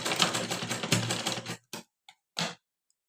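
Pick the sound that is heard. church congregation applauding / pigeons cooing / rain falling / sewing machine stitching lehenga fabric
sewing machine stitching lehenga fabric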